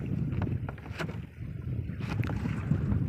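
A northerly wind blows on a small fishing boat at sea about four kilometres offshore, out for mackerel, giving a steady low buffeting rumble with hull and water noise and gusty wind hitting the microphone.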